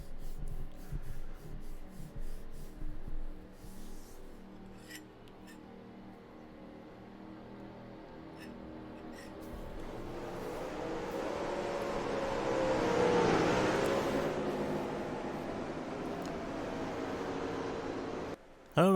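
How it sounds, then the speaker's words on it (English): Heavy rainfall makes a broad, steady hiss that swells much louder through the second half and then cuts off abruptly, with faint scattered sounds and possible voices earlier. "I don't know if you guys could hear that rainfall, because that was pretty loud."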